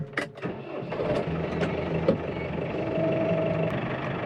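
A tractor engine runs at a steady mid-pitched drone on a farm, heard from just outside the cab, with a few sharp clicks and knocks over the hum.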